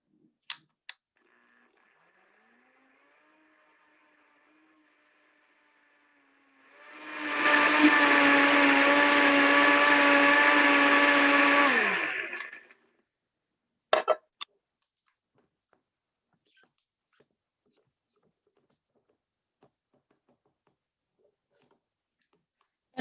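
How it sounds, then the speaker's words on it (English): A blender whirs loudly while mixing an orange smoothie, a steady roar lasting about six seconds. Quiet clicks and clatters come before and after, and there is no talk. "It's going to be a little noisy for a hot second"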